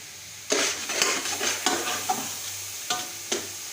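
Grated carrots stir-frying in desi ghee in a pan for gajar ka halwa, with a steady sizzle broken by repeated scraping strokes of a spoon stirring the mixture, close and clear with no talking.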